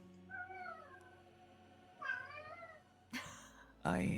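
A house cat meows several times nearby, rising and falling cries spaced apart, with a louder, sharper call at the end, amid quiet room sound and faint voices.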